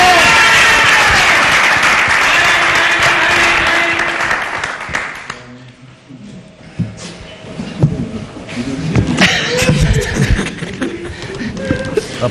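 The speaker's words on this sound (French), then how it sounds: "je vous demanderai d'applaudir très fort pour Ekolo et Libako" Audience at a live Congolese comedy stage show applauds loudly for the duo Ekolo and Libako, a dense burst of clapping that fades after about five seconds into scattered crowd noise and murmuring voices.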